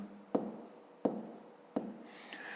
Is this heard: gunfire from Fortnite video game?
no